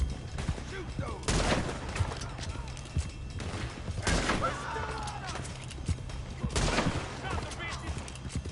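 Gunfire in a Red Dead Redemption 2 shootout: three loud bursts of shots a few seconds apart over a busy battle bed, with shouted voices over the fighting.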